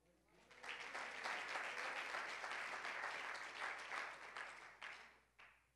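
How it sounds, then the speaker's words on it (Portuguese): A church congregation bursts into applause for the Lord, many hands clapping in a dense, rising wash that holds steady for several seconds, then thins out and fades, with a last scattered clap near the end. "Pode aplaudir o Senhor"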